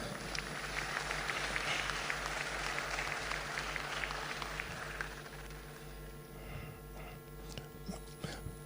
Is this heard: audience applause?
yes